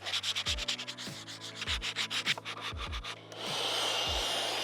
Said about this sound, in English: I'm gonna sand this part down